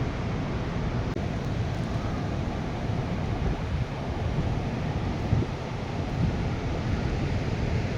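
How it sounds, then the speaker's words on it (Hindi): Sea waves breaking along the shore at Somnath at night, a steady broadband roar of surf mixed with wind buffeting the microphone, continuous and fairly loud with no talk. "सामने आपको समुद्र की लहरें सुनाई पड़ रही होंगी।"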